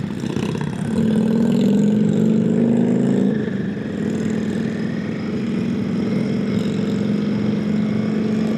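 A 2025 Royal Enfield Himalayan motorcycle on a ride, its engine droning loud and steady with a smooth rising and settling tone, close up and unbroken by speech.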